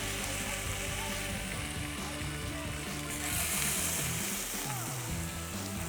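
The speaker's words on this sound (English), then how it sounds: "Can you hear that sizzling?" Steady, loud sizzling of fatty meat frying in a hot pan, a continuous crackling hiss that swells slightly partway through, with no talking.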